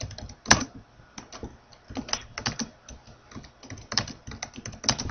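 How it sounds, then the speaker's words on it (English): Irregular bursts of keystrokes clatter on a computer keyboard as a message is typed, quiet and close, with uneven pauses between flurries and no talking. "then you can type in a message."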